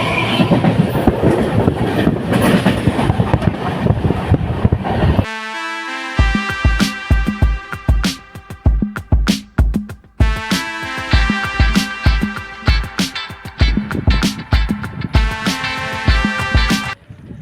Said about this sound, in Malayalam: പൂനെ കന്യാകുമാരി എക്സ്പ്രസ് ആണ്